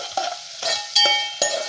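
Onions frying in ghee for moong dal khichdi, with several sharp spoon scrapes and clinks against the pan over a light sizzle, close and moderately loud, no talk.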